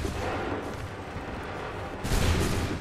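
A musket volley in the Assassin's Creed 3 video game, a heavy rumbling burst of gunfire that swells sharply near the end over a dense battlefield din.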